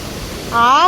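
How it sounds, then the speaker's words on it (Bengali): Banjhakri waterfall in Gangtok gives off a steady, close broadband rush of falling water, and a voice-like tone rises over it in the second half. "একদম ওয়াটারফলসের সামনে চলে এসেছি"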